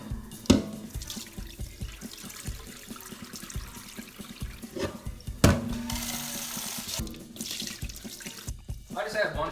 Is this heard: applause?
no